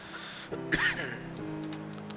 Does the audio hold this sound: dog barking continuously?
no